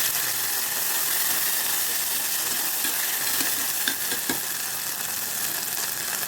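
Onions with ginger and garlic sizzle steadily in a hot pan for a mushroom gravy, with occasional scrapes and clicks of stirring.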